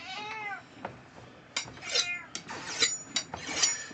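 A cat meows several times in a row, fairly close and clear, with rising and falling cries over a low background.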